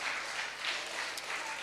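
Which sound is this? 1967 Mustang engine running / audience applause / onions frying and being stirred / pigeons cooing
audience applause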